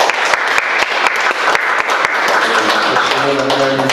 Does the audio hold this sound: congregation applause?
yes